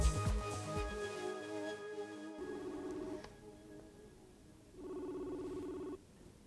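An outgoing phone call rings through a handset: two evenly spaced, buzzing ringback tones, each about a second long, separated by a pause, heard faintly after a brief burst of music.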